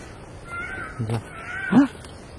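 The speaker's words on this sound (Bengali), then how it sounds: "বন বিড়াল" A wild jungle cat gives two short, rough calls about half a second apart, moderately close and standing out above a quiet outdoor background.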